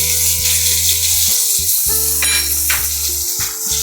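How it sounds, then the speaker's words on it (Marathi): Chopped tomatoes tipped into a pan of well-browned onions cooking for a Marathi dry Bombay duck and potato dish, with a steady loud sizzle, a sudden rustle as they land, then stirring scrapes over background music. "आता मी थोडेसे टोमॅटो धुवून कापून घेतलेले मी ते टाकते."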